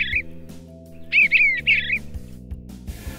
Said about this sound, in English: I see an eastern bluebird.